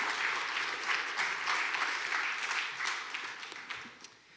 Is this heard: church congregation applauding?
yes